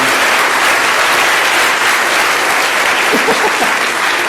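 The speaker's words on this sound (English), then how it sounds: "I think we should all clap for Team Bycode." An audience claps steadily for contest winners at a programming contest awards ceremony, a loud, dense burst of applause throughout with no speech over it.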